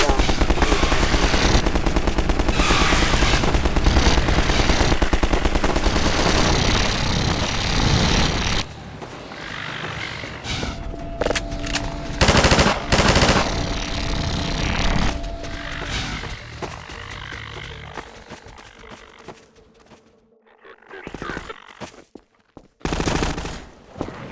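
Automatic gun turret in Half-Life 2 fires a dense, loud, continuous stream of rapid shots for several seconds, then breaks off into quieter scattered bursts and mechanical noises with a steady tone in the background.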